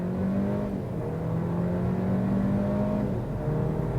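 An Audi A5 Avant 2.0 TFSI Quattro engine drones and pulls hard under launch-control acceleration, its pitch holding high before a brief dip like a gear change near the end.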